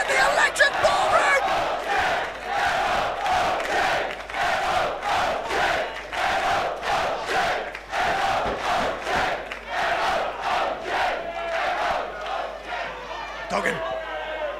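A packed wrestling crowd at the Electric Ballroom in London roars and chants in loud rhythmic bursts, clapping and shouting in unison during a tournament match, with a commentator's voice mixed in.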